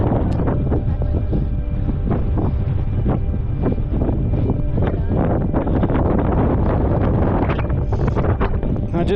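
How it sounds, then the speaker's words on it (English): Strong, steady wind roars across an exposed summit on Organ Needle, New Mexico, buffeting the microphone with continuous loud low rumble and gusty flutter throughout. "All of a sudden it's like you just get into a wind tunnel up here."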